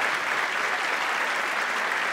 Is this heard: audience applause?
yes